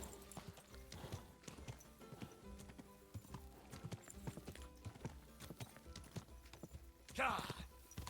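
Horse hooves clop rapidly in a galloping rhythm in a video game, steady and continuous, with a brief whinny near the end and a voice talking in the background.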